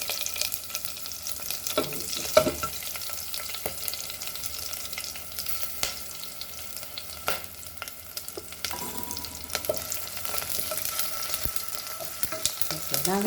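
Seasoning splutters and crackles in hot oil for a Goan taro leaf bhaji, with a steady sizzle broken by scattered sharp pops, close and alone.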